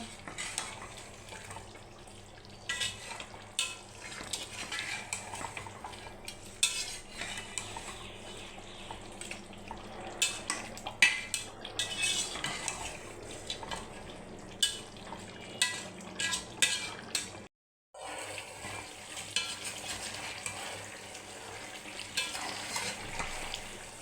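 Mutton curry cooked with chui jhal, garlic and meat is stirred in a pot over a stove, giving a steady, fairly close scraping and sizzling texture with occasional clinks of the spoon against the pot and one very brief pause near the end.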